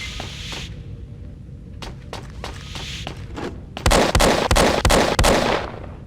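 Gunfire from a tiny gun in the FPS Creator game Emergence: Infiltration (2009), several sharp shots, widely spaced at first and then a fast cluster of loud cracks, over a low ambient game hum.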